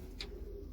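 A racing pigeon gives one brief soft coo in the loft, faint over a steady low background hum.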